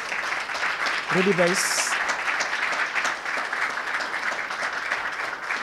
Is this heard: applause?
yes